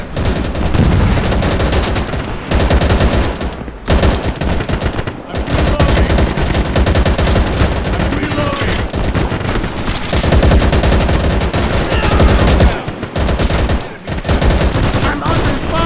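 Dense WW2 battle gunfire from the game Easy Red 2, with sustained machine-gun bursts and rifle shots roaring almost nonstop, loud and close, broken only by a few brief pauses.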